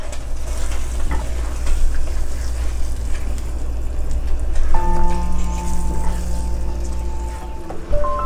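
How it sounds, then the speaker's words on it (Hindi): Peas and carrots sizzle in a hot frying pan for a chicken pot pie filling, a steady close crackling hiss with a brief clatter as they go in and a background tone. "अब मैं इसके अंदर 1 कप मटर और गाजरें ऐड करूँगी।"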